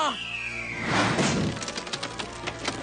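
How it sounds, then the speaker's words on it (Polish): Cartoon crash of a pirate ship's sail being smashed: a whooshing descent into a loud splintering impact, followed by scattered clattering debris. "Te podłe bachory roztrzaskały mi żagiel!"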